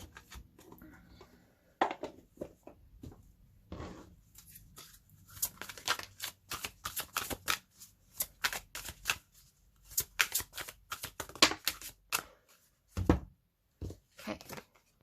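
A deck of oracle cards is shuffled by hand, close crisp bursts of riffling and slapping card sounds in irregular clusters with short quiet gaps between them.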